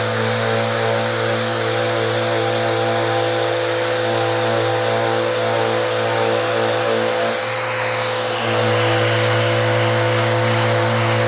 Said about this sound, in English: A quick sanding, especially on this edge.